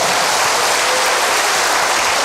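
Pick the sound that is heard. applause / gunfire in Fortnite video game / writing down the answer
applause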